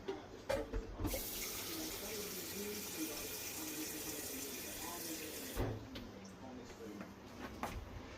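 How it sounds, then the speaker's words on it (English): Tap water runs steadily into a pot on the stove while spaghetti and meatballs cook, a continuous close splashing rush that starts after a few knocks and cuts off abruptly, followed by faint clatter. "we'll put some more water in"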